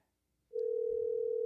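A telephone tone sounds on a podcast call-in line, a steady, pure electronic note that starts abruptly after a short silence and continues unbroken, with no voices.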